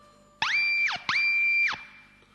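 An electric guitar played through a pitch pedal with the selector switch toggled, two bursts of a sharply rising then falling tone that mimic a telephone ringing, loud and close with a short gap between them.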